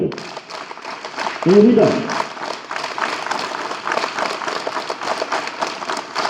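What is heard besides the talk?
school students clapping together at morning assembly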